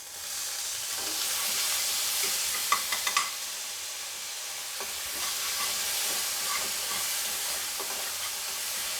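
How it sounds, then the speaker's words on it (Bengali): Spices sizzling steadily in a pan with a little water added, stirred with a utensil that gives a few scraping clicks, for a pointed gourd, ridge gourd and potato curry; close, continuous frying hiss with no talking. "বন্ধুরা আমার মশলাটা সুন্দর কষানো হয়ে গেছে"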